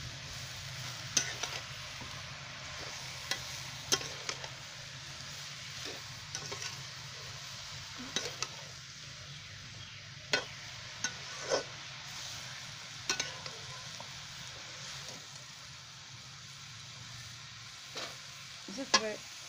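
Bottle gourd sabji with red chili powder is stirred in a pan over a village cooking fire: a steady low sizzle runs throughout while a spoon scrapes and knocks against the pan in scattered, distinct strokes. No one talks.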